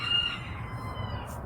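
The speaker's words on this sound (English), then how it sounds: "I love listening to the neighbors' chickens." A neighbor's chickens cackle and cluck in a dense, continuous flurry, with a faint higher call near the end, steady and moderately distant.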